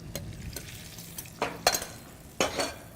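Scrambled eggs are stirred in a pan on high heat, with a soft continuous sizzle under several scraping, clinking strokes of a utensil against the pan.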